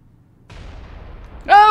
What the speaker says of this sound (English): he's got a cannon.